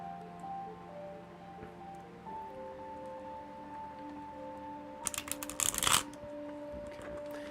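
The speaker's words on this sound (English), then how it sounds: "Now this deck I'm shuffling right now" A small oracle card deck shuffled in a brief, loud burst of riffling cards near the end, after a stretch of quiet room tone with a steady low hum.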